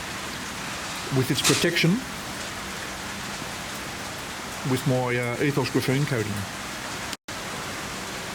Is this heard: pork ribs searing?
no